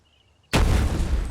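Gunfire during a video game boss fight in a tunnel, a sudden loud blast after near silence, followed by a sustained rumbling roar of continued shooting.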